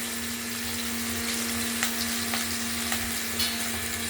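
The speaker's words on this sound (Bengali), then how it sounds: "মাথাটিকে খুব ভালো করে আমরা ভেজে নেব।" A rohu fish head fries in hot oil with a continuous close sizzle and faint crackle, a few soft pops and occasional knocks over a low steady hum, no talking.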